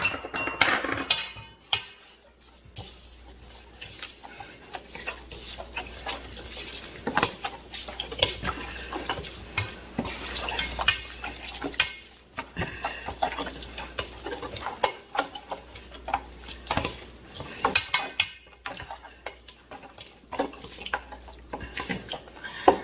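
Kimchi seasoning for young radish kimchi, made with fish sauce, shrimp powder and chili seeds, being stirred in a bowl, with steady clinking and scraping against the dish and some watery sloshing, close and continuous.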